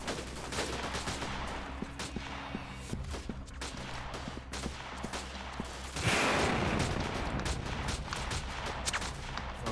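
Gunfire in the video game Freeman Guerrilla Warfare cracks out as sharp, scattered shots and short bursts, some distant and some close, with a louder stretch of heavy firing toward the end.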